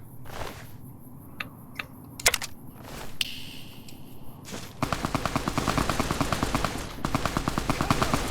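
Gunfire from the video game Fallout New Vegas, with scattered single shots early on, then sustained rapid bursts of automatic fire that are loud and continuous through the second half.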